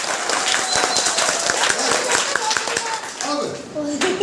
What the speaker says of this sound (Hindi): ताली एक बार।